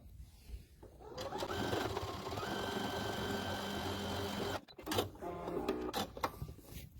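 A sewing machine runs a steady zigzag stitch along a fabric edge while a wristlet bag is being made, whirring continuously and close up for several seconds, then pausing briefly before a few shorter bursts with light handling clicks.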